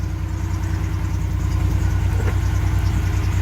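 A steady, close car engine idle as the car warms up after a coolant sensor replacement, with a low pulsing throb that continues unbroken and no voices.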